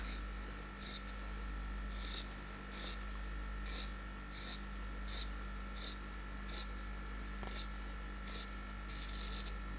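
Scissors snip repeatedly across the back of a cotton tank top, a steady series of about a dozen short crisp cuts at a regular pace over a constant low background hum, with no talking.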